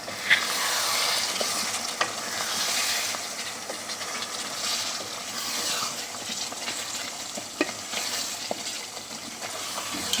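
Tea water hits frying soybean curry spices in a pan, and a continuous hiss and sizzle follows with faint stirring scrapes throughout.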